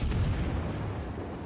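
A low-tier destroyer's gun salvo booms in World of Warships, a heavy rumbling blast that rolls on steadily throughout.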